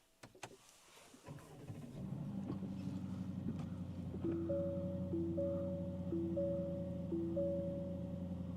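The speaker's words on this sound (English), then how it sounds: "There's that twin-turbo V8 come to life." A 2025 Aston Martin DBX 707 twin-turbo V8 starting up, with a click and crank before the engine catches at about two seconds and settles into a steady, rumbling idle with a faint whine on top.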